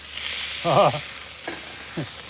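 Burgers frying on a Weber Master Touch stainless steel diffuser plate used as a griddle, a constant bright sizzle close by, with a few brief murmured sounds over it.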